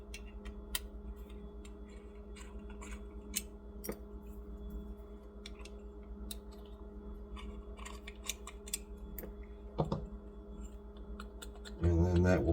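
Small hex screws being backed out of a Nova N8 Fury part, heard as faint, scattered clicks and light metallic ticks in a quiet room, with a louder handling rustle near the end.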